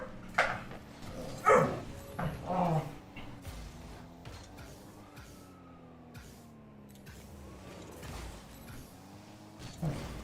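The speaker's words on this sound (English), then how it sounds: "Sorry about the barking." A few sharp dog barks near the start, then quieter background with faint mechanical hum and occasional distant noises.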